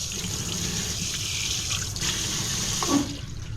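Water runs steadily from an automatic faucet in a steady close rush, with a slight change in flow near the end and no talking.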